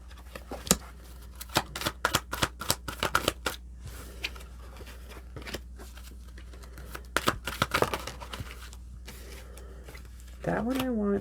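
Oracle cards being shuffled and handled nearby: crisp riffles and flicks in irregular bursts with short gaps, fairly quiet, followed by a brief voice at the end.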